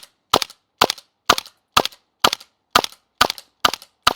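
A G&G SMC9 gas airsoft gun fires eight sharp, evenly paced single shots, each a loud close crack with a short snap of the bolt cycling, and no talking in between.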